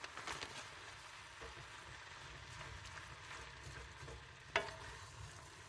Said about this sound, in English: Now we just wait and stir it up until it's melted really good